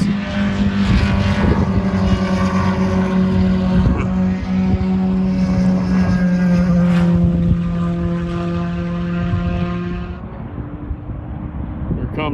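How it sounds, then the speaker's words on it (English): Mazda Miata race cars sweep past on a road course, a steady loud engine drone with shifting pitch that holds throughout before easing near the end. "Those Miatas really whip around the turns."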